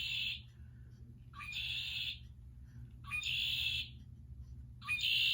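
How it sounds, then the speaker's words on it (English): Red-winged blackbird calling outdoors on a nature walk by a lake, three or four bright, buzzy calls repeating about every one and a half seconds over a steady low background rumble, moderately close. "Red-winged blackbird."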